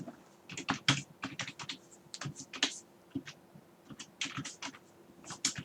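A computer keyboard clatters as a file name is typed, with quick bursts of close keystrokes separated by brief pauses and no voices.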